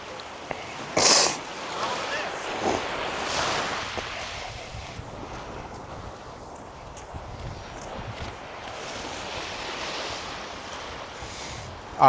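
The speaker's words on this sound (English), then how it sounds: "the water is coming in crazy." Ocean waves roll in at a beach as a steady, moderately loud wash of surf and wind with a sharp burst near the start, while talk is faintly audible in the background.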